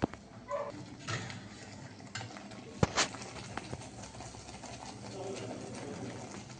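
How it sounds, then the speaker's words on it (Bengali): Spice paste of garlic, onion, ginger, tomato, green chilli and chilli powder is stir-fried in a kadai for chicken kosha, with soft sizzling and irregular scraping stirs, a sharp clatter near the middle and faint background noise. "মশলাটা কষাচ্ছি"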